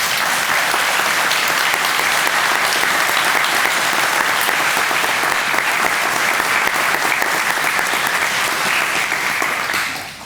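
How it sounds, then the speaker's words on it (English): Audience at a Richmond Fire Department honors and awards ceremony breaking into loud, dense, sustained applause for about ten seconds before cutting off abruptly. "Please give these fine gentlemen a round of applause."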